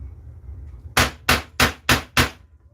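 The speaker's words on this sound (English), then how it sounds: "as I hammer on this." Five loud, rapid hammer blows punching holes in leather land in a steady rhythm, each a sharp close crack against a quiet background.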